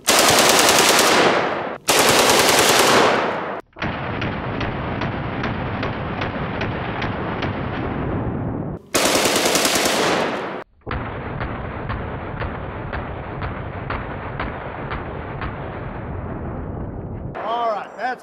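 Full-auto AK-47 rifle fire aimed at body armor, with long loud rapid bursts of shots broken by short gaps, close and harsh, the sustained rattle ringing out between volleys.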